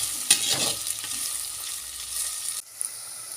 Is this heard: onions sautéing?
yes